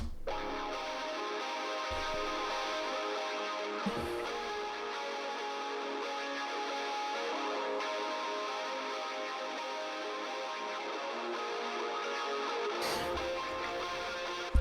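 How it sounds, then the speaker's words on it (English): A slightly fizzy, distorted main lead electric guitar part plays steadily in a mix, sustained and bright with brief breaks near the start and end. "Now we'll move on to the lead guitars."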